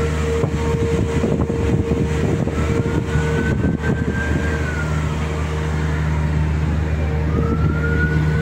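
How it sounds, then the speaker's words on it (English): A wailing ambulance siren rises and falls in the distance over the steady rumble of heavy, idling traffic close by on a road in Luton, UK. "there's an ambulance coming down there"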